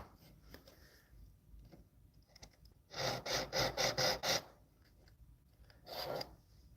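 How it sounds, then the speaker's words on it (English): A polishing wheel grinds against a twisted-wire solder joint in a run of quick, rasping strokes, then a brief second burst after a pause, loud and close with no talking. "I'm going to use just one of those polishing wheels to kind of refine it a little bit more"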